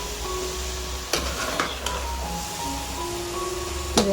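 Steady sizzling of mushrooms frying in a pan for mushroom biryani, with a few sharp clinks of a utensil against the pan.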